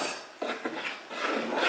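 Corn oil, water and homemade play-dough mixture stirred in a pot, giving scraping, rubbing strokes of a utensil against the pot, with a few sharper knocks, close and fairly quiet.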